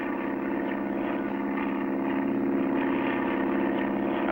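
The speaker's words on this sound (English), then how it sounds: "Clutch and Company board their plane and begin their trip." Cartoon airplane taking off, a steady droning propeller engine that holds loud and even throughout with no talking.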